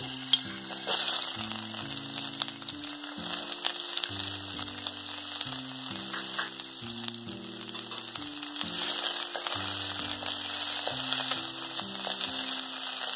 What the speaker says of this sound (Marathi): 1 चमचा तेल, कांदा घालते, तेल तापलं आहे।